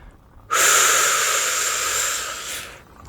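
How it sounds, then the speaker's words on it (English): One long, deep breath drawn in through the mouth during a breathing exercise, close and airy, starting abruptly and holding steady for about two seconds before fading out. "And breathe in"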